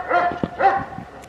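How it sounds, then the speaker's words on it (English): A male dog kept apart from a female in heat barks twice in quick succession, loud and close, with a short yelp between the barks. "Sorry about all the Ziggy barking in the background"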